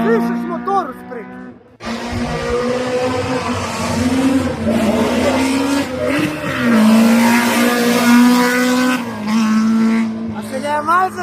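A Honda motorcycle engine runs steadily close by, its droning hum rising and falling slightly as it revs, with brief voices at the start and end.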